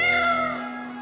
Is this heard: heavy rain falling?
no